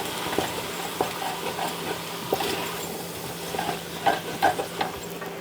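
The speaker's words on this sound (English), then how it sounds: "Give this a stir." A spoon stirs tomato paste and flour in a cooking pot, giving a soft, steady scraping with light sizzling and occasional small clinks against the pot, close and fairly quiet, with no talking.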